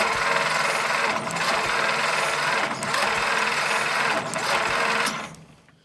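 A Jeep engine cranks over with a fast, rapid mechanical chatter from the starter. It runs close and loud in a few bursts separated by brief breaks, then cuts off near the end.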